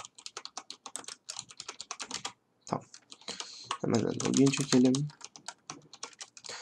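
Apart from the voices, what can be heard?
computer keyboard typing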